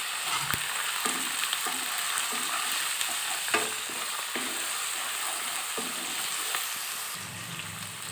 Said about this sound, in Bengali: এবার সব মশলাগুলো একটু কষিয়ে নেব।